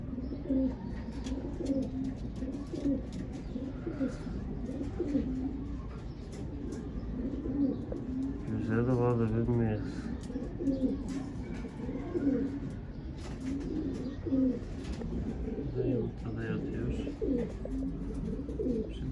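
Red ispir pigeons cooing close by in a loft, a soft, repeated rolling coo amid a steady murmur of other birds, with someone talking intermittently over them.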